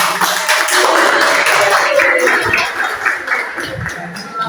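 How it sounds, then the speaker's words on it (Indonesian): A group in a classroom coaching session claps hands together in a busy, steady patter close by, fading slightly toward the end with a faint voice underneath. "yang dapat giliran pertama kita beri tepuk tangan untuk kita"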